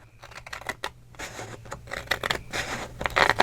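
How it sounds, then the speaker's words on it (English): Scissors snipping paper along a drawn line, close up, with a quick run of crisp cutting crunches and rustles that get louder toward the end. "So I'm cutting the line off of the paper."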